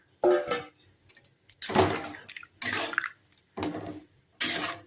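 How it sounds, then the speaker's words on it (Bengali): Water poured into a pan of pea and potato curry with coriander leaves: several separate splashy gushes, close and fairly loud, each lasting about a second with short silent gaps between. "আমি এর মধ্যে একটু জল অ্যাড করলাম।"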